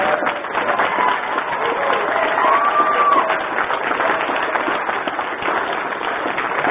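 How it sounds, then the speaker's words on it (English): Applause from guests at a spring dinner as several honorees are introduced, a broad steady patter of many hands held at a fairly even level throughout, with a faint whistle-like tone rising briefly near the middle. "Let's give them a big round of applause"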